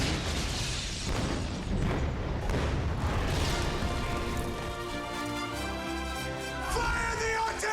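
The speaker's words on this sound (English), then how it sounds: "Fire the artillery!" Large artillery pieces firing on the set of a big action film, with heavy booming blasts and crackling debris in the first few seconds, followed by a rumbling, ringing decay that fades out.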